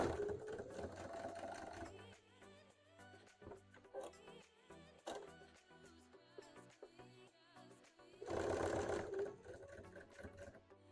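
A sewing machine stitches a Mimikyu Pokemon hat in short, close bursts of whirring, with quieter gaps between the runs and no talk.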